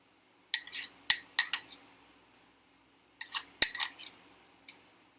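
Metal utensil clinking against a cold glass of cream soda while scooping foam bubbles off the top, two clusters of bright, close chinks and taps separated by a quiet pause, no voices.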